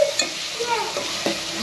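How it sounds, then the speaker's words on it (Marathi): Tomatoes with a spoonful of salt sautéing in oil, with a continuous close sizzle and several scraping strokes of a spatula stirring the pan. "तर चांगला टोमॅटो आपल्याला मॅच होईपर्यंत परतून घ्यायचा आहे"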